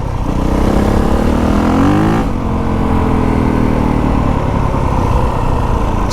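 A new dirt bike's engine on its stock exhaust roars loud and close, holding a steady high rev that dips in pitch partway through and then settles into a constant drone.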